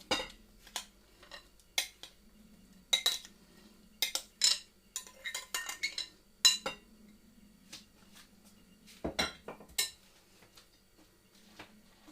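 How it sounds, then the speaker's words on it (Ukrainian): A spoon stirs a batter of soured milk, eggs and grated apples in a bowl for apple fritters, giving irregular close clinks and scrapes against the dish with quiet gaps between them. "І все вимішуємо."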